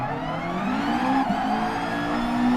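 A 1998 Honda Integra Type R DC2 in Gran Turismo Sport, its engine held at a steady high rev with rising harmonic tones and a faint tire squeal, loud and close with no talk.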